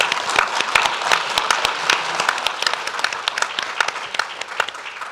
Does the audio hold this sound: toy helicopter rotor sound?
no